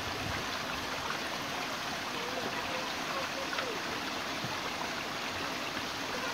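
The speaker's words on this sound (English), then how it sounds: "Pretty waterfall." A small waterfall in the Mourne Mountains near Newcastle, Ireland, gives a steady, broadband rushing hiss of falling water, constant and close throughout with no breaks.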